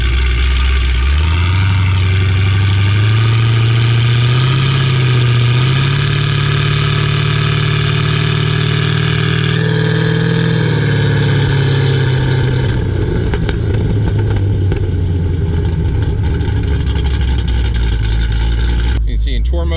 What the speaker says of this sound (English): I'll start driving up the hill, give it some throttle, and put it in tour mode halfway up so you can hear the difference.